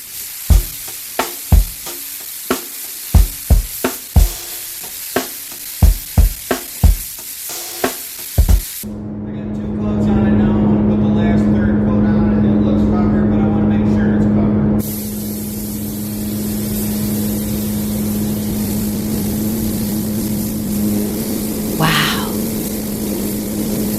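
Silver paint is sprayed onto a car door in short, sharp bursts at first, then switches to a long continuous hiss with a steady low motor hum, followed by a softer, even spray to the end.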